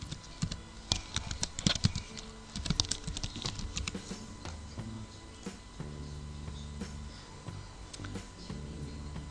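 Clicky, irregular keystrokes on a computer keyboard as a bank name is entered, with close, quick bursts of taps that thin into lighter, sparser typing, and no talking.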